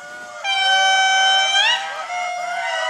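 A lemur alarm call in the Madagascar forest rings out as one loud, sustained, piercing harmonic cry that bends upward near its end before trailing off.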